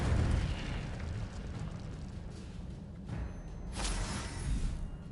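An Incendio fire spell cast in Hogwarts Legacy: a whooshing burst of flame that roars briefly, then a second rushing eruption of fire swells and fades, moderately loud against a rumbling game background.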